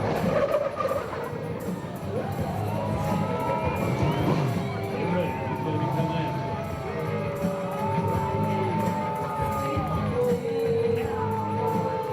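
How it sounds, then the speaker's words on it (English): A crowd cheers and shouts over a steady roar at a USAC/CRA sprint car race in Perris, California, with whistles and raised voices rising and falling throughout. "some noise for Tony Jones. He can hear it right now."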